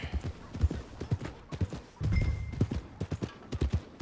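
Horse hooves clip-clop steadily at a walking pace in Red Dead Redemption 2, close and fairly quiet, with a brief low rumble partway through.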